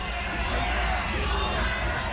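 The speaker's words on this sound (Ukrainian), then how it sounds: "Надемоційні промови політиків виборці зустрічають шквалом підтримки." Voters at a Taiwan election rally cheer as a crowd, a dense, steady wash of distant shouting and whooping that holds at an even level throughout.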